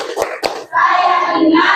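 Two sharp hand claps open a classroom 'tepuk fokus' clap routine, then a group of voices chants together loudly in the same rhythm.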